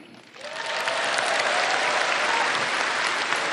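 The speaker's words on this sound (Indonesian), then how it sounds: "Tepuk tangannya kurang semangat." Crowd applause at a Gerindra party anniversary rally in Indonesia, rising quickly from quieter clapping into a loud, dense, sustained roar of many hands that holds steady to the end.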